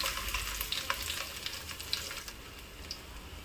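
Chopped garlic cloves sizzling in hot oil in a pan, a soft continuous frying crackle with small pops and a brief stir, fairly quiet and close, no talking.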